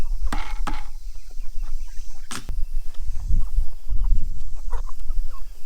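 Homestead chickens cluck and scratch about near their fermented feed, with short cackles and soft clucks scattered over several seconds alongside pecking and thumping noises, close by and without talk.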